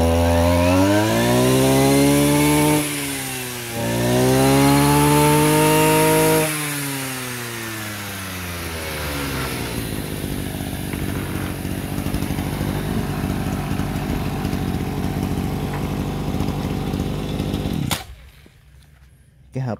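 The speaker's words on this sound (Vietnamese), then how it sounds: "để em lên ga lớn cho anh em nghe." A Maru 26cc two-stroke grass trimmer with a grass guard is loudly revved to full throttle twice, its pitch rising and falling. It then settles into a rattling idle before cutting out abruptly near the end.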